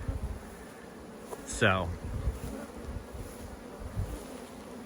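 Honey bees from two newly installed swarms hum at an apiary in a faint, steady buzz, heard close and low. A brief high rising chirp cuts across the middle, and someone speaks briefly.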